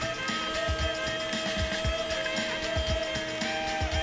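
A CNC machine cuts through basswood, giving a steady mechanical whine and hum with repeated soft low thumps as the bit moves, continuous and fairly close with no talking.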